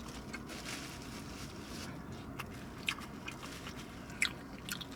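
Close, quiet chewing and biting on a Five Guys cheeseburger and fries dipped in ketchup, with a few sharper crunchy clicks standing out over a steady low background.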